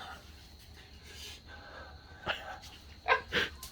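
A few dogs give sharp barks near the end, three quick bursts after a stretch of low indoor background and faint movement, fairly close and moderately loud.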